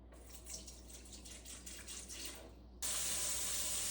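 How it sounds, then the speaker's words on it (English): Running hot water pours from a tap, splashing into a stoppered sink, then surges louder and brighter as the flow increases near the end. "Fill up the sink with hot water."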